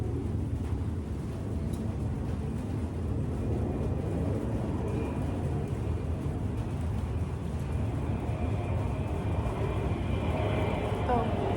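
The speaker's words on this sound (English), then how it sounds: "There's a very loud airplane." A loud airplane roars overhead, a heavy low rumble that swells and lingers for several seconds, with faint talk beneath it.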